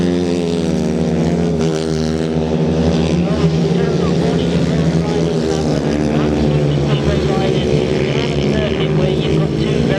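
Solo grasstrack motorcycles race around a tight bottom bend, engines droning loud and steady with rising and falling pitch as bikes pass, while a commentator talks continuously over the racing.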